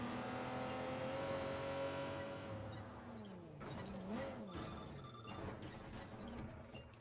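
Engine of a car driven in the video game Watch Dogs 2, a steady loud drone with shifting revs and a brief dip in pitch midway, continuing without talk.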